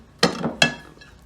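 Two sharp ceramic clinks as one plate is set over another to cover a dish before it goes into a microwave, close and distinct, with a faint ring after each.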